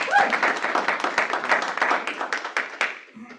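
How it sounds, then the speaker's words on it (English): Scattered clapping from attendees at a stakeholder meeting, a fairly close round of applause with uneven individual claps that thins out toward the end. "let's give her a round of applause, Amanda Mendoza."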